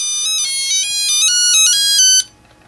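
A loud, electronic beeping melody from a Tiger Electronics handheld game plays in quick stepped notes for about two seconds, then cuts off abruptly.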